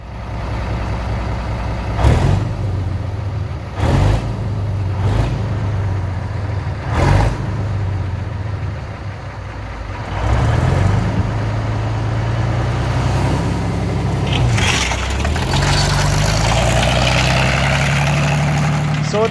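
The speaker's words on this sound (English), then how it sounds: "here's the T-34 driving around." A T-34 tank driving around outdoors, its heavy engine rumbling steadily with several brief revving surges and a rising roar toward the end, loud and continuous.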